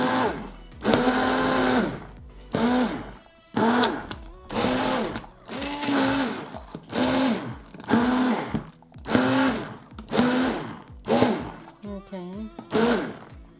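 Blender pureeing stinging nettle and garlic in roughly ten short, loud whirring bursts separated by brief pauses, the motor pitch rising and dropping with each pulse; one short spoken word near the start.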